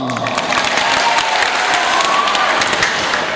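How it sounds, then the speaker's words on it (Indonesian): Loud, dense clapping from a crowd at a Lumban Gaol family association gathering in Bandung, steady throughout with scattered cheers and voices mixed in. "tepuk tangan dong"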